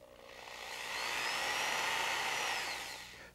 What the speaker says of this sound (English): You can take a coat hanger and bend it and stick it in your electric drill and use it as a stirrer.